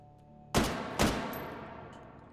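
A World War II style gun fires in the VR game Hot Dogs, Horseshoes & Hand Grenades, two sharp close shots about half a second apart, each with a fading echo.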